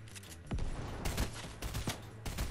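Rapid bursts of gunfire in a Fortnite Battle Royale arena trio match, sharp cracks and volleys repeating irregularly across the moment, loud and close with overlapping shots.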